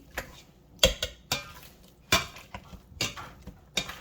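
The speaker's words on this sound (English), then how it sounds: "Just gonna take and smash them all up. Smash the butter in." Soft boiled potatoes mashed with butter using a cheap hand masher in a bowl, giving close, irregular thumps and clatters of metal against the bowl every half second or so, with squishy scraping between strikes.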